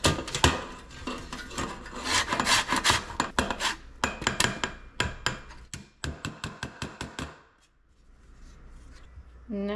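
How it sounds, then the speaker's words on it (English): A whole orange being zested with a hand zester, giving close, busy rasping and scraping strokes in quick irregular bursts that stop near the end, leaving a quieter stretch with no talk. "next we need to zest a whole orange and then juice it"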